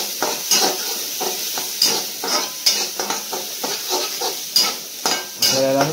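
Chopped onion sizzling loudly in a hot pan while a spatula stirs it in quick, rhythmic scrapes and taps, close and steady, with no one speaking.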